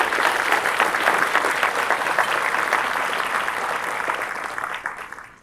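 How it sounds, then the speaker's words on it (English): An audience at a luncheon event breaks into a sustained round of applause, dense and steady from the start before thinning and fading out near the end. "join me in a round of applause for Robin"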